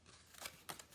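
Scissors snip through paper while a gift card holder is cut out, giving two or three crisp, close cuts in a quiet room with nobody speaking.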